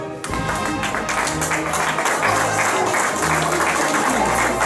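An audience claps steadily and fills the space with dense applause after prizes are announced at a festival, the clapping holding at an even level from start to finish.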